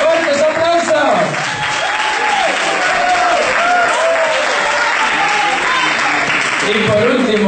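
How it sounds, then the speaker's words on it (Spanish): A loud crowd applauds as a contestant is introduced at an event, sustained clapping throughout with a speaker's voice running over the top of it. "¡Fuertes aplausos!"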